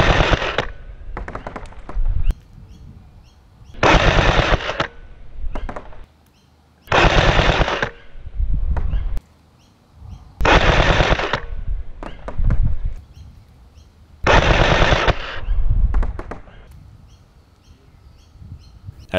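An M4 V12 gel blaster fires at targets 30 meters away in loud rapid bursts of automatic shots, each volley lasting about a second, separated by short pauses with faint outdoor background and distant birds.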